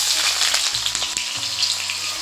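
Onions sizzling in hot oil in an electric wok, a close, steady, crackling fry with bursts of spattering and a faint low electrical hum underneath.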